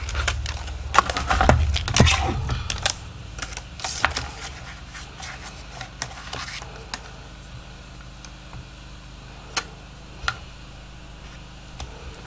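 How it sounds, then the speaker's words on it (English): A small paper cutter slices a file folder along its center score mark, giving a run of sharp close clicks and scraping ticks, busier at first and then thinning to sparse, isolated ticks. "I'm going to cut directly on that center score mark, and try not to go too far over to either side."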